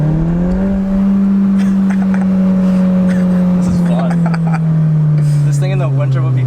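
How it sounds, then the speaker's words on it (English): A turbocharged car accelerates hard, its engine drone holding steady before dropping slightly in pitch, with people talking over it from inside the cabin. "when that turbo kicks in, it just goes"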